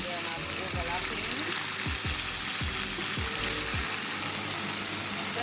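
Beef strips for pepper steak fry in a pot with a loud continuous sizzle and hiss, a series of faint sliding tones recurring every half second or so, and a voice talking lightly underneath.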